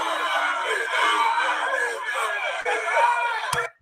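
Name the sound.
crowd screaming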